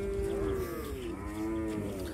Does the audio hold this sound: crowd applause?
no